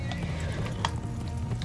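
A horse whinnies in the fantasy video game Neverwinter, a brief neigh over hoof clip-clops and a steady bed of game background sound.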